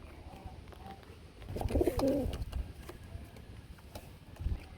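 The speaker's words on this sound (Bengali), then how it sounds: "এটা তো রেসার কবুতর" Racing pigeons cooing in a loft, a low throaty coo rising briefly in the middle with soft bird calls and faint rustling around it, fairly close and moderate in level.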